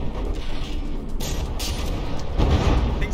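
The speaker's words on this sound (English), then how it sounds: "That third shell there, that was a direct hit, but the armor does seem to have held and kept the gun alive." Naval shell striking an armored battleship gun turret in From the Depths, where the armor holds: a deep boom with metallic clatter, a second heavier impact rumbling near the end, loud and close.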